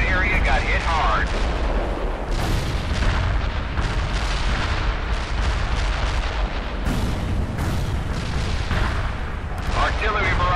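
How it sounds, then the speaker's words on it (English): An artillery barrage in the World in Conflict video game: a dense run of heavy booming explosions and blasts rolling on throughout, loud and close, with radio-style voices breaking in between impacts. "Artillery barrage turned the target area into dust."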